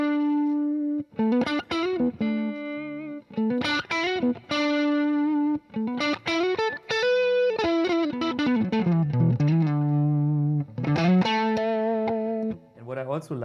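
A Gibson Les Paul electric guitar played through effects units with distortion and chorus, picking out melodic notes and sustained lines in steady phrases, loud and close, with no talking over the playing.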